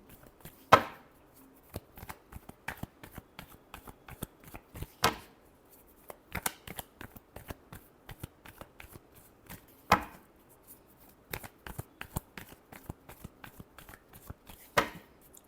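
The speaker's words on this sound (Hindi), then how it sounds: "Last shuffle." Tarot cards shuffled by hand in repeated bursts of crisp riffling and snapping, with sharper slaps every few seconds, close and clear with no talking.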